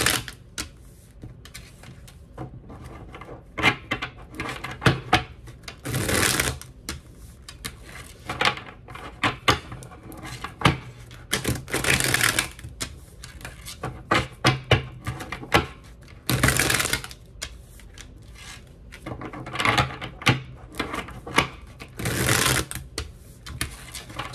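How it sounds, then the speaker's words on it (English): Tarot cards are shuffled by hand in repeated bursts of crisp riffling, with quieter handling and tapping between the louder shuffles and no talk. "Telling me to shuffle the cards real good for you guys"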